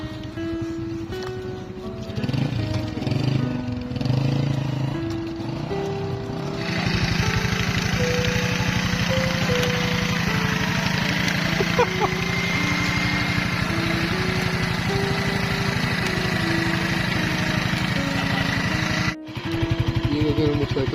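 A motorcycle engine runs steadily and close by for the whole stretch, a continuous loud throbbing drone whose pitch steps up and down a few times, with no talk over it.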